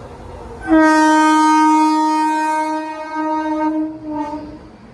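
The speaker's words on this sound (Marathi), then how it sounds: "आणि ट्रेन आली का दाखवत तुम्हाला" A loud, sustained train horn blares for about three seconds as a train arrives at Shegaon station, fades, then sounds again briefly, with no talk.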